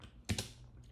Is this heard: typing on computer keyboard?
yes